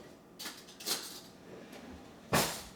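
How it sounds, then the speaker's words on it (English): Someone fetching a spoon for peanut butter in a kitchen, with soft clinks of cutlery and a drawer or cupboard moving, ending in a sharper rattle, close and quiet. "Just need to get a spoon here."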